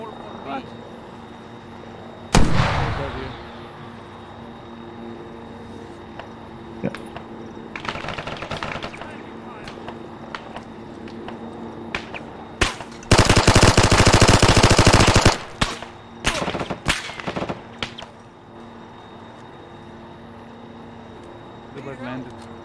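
Gunfire rings out in a military shooter game on the Malden map: a sharp loud crack, scattered single shots, then a long sustained automatic burst, with players talking throughout.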